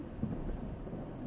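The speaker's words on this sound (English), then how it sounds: "That's thunder, alright? That's thunder. Straight thunder. This lightning storm is so strong." Low rolling thunder from a strong lightning storm in Taiwan, a steady deep rumble that fills the whole moment at moderate distance with no talking.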